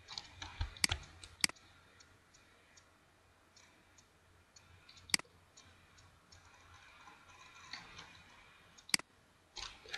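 Sharp, isolated computer mouse clicks while working with the Photoshop clone tool, a few single and paired clicks spaced seconds apart over a quiet background.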